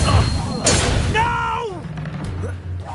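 A spell being cast in Hogwarts Legacy: a bright whooshing burst of flame with a rising magical shimmer, over steady low game ambience, while a voice shouts in the foreground.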